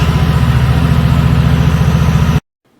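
A walking cultivator engine runs at a steady, loud, throbbing idle close by, its low rhythmic chug continuing evenly before cutting off abruptly near the end.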